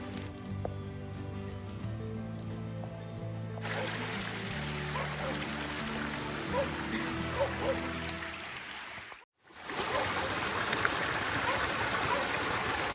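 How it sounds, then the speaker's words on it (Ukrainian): Continuous rushing and gurgling of a river flowing close by in a forest on the way to Rotylo rock peak, steady and fairly loud throughout, briefly dropping out near the end. "Знову переходимо річку."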